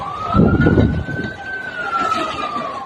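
A fire brigade vehicle arriving at a fire near a Mumbai railway track beside slum huts, its siren a steady, slightly wavering wail close by, with a rumble of traffic underneath.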